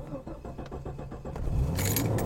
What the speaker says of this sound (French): Moi qui t'apprends à démarrer une voiture